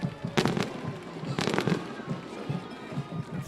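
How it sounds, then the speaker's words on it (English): Fireworks burst over a high school football game at Neshannock after a touchdown, with two loud crackling volleys about a second apart over ongoing crowd noise. Sharp pops continue faintly afterward. "Fireworks go off here at the Neshannock"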